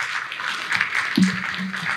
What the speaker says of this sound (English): There we go, a round of applause.